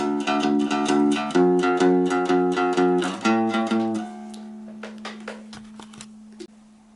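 A one-string cigar box guitar plays a short walk-down line, with bright plucked notes stepping lower in pitch before a single sustained note rings alone, followed by a few faint taps.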